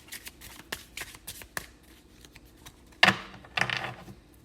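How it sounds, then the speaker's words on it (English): Tarot cards are shuffled close up in quick riffling bursts and soft taps, with a sharper, louder riffle near the end. "Like I'm shuffling like I normally do, but the cards are all over the place for whatever reason."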